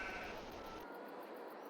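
Sheep bleat in the farming video game Goldcrest Valley, a short, quiet bleat over a steady ambient game background with no talking.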